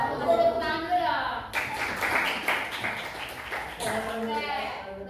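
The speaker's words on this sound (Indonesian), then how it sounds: "Tepuk tangan dulu dong." A school class claps hands together in a short burst of brisk, fairly loud applause, with a teacher speaking just before and just after it.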